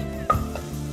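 Garlic and ginger frying in a pan before onions go in, with a steady soft sizzle and a brief clink of a utensil stirring, close and continuous.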